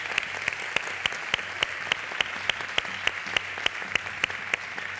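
A crowd applauds at an outdoor traditional costume festival in Zamora in honour of a great-grandmother, with steady clapping and sharper individual claps standing out in a fairly even rhythm, moderately loud.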